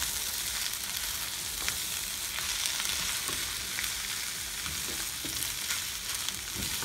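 Julienned onion sizzles steadily in a pan with bacon and sausage, a close, continuous frying crackle with occasional stirring scrapes and no talking.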